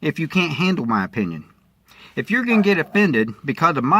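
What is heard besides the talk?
No everyday noises stand out.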